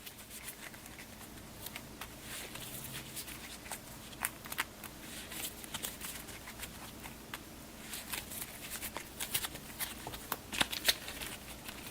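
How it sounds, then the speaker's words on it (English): A deck of game cards is shuffled by hand during a board game, producing a soft continuous riffling and patter with occasional sharper snaps, close and quiet, with no talking. "We'll give these a shuffle as well"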